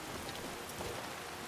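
Steady rain falls in a modded Skyrim Wildlander game, a soft, even hiss of drops with no voices over it.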